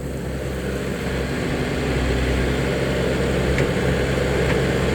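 A Kobe SK-100 excavator's diesel engine runs steadily under load, a continuous low rumbling drone with a constant hum and no breaks, fairly loud and close, with no talking over it.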